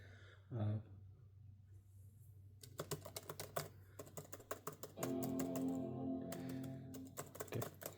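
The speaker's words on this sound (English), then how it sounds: "Let's check the keyboard." Typing on the keyboard of a used MacBook Pro M4 laptop, with bursts of quick, close key clicks separated by short pauses, partly under a low steady hum and a brief voice.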